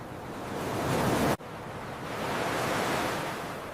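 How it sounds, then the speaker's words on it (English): Ocean surf rolls onto a beach in a steady, loud hiss of breaking waves, cut by a brief dropout before the wash swells back up, with no voices. "We just got to the beach."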